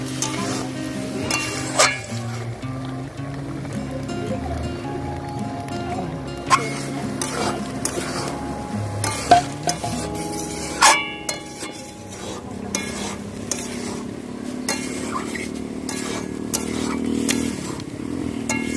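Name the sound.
stirring hog plum pickle with sugar and jaggery in a pan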